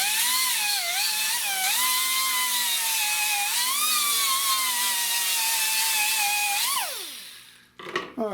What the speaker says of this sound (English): So I'm gonna grind on this and just see how this grinds.